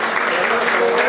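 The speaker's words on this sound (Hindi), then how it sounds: "एक बार जोरदार तालियां बजाए गौरव" Loud applause from a crowd at a Hindi comic poetry gathering welcoming a poet, a brief dense burst of clapping with a voice mixed in.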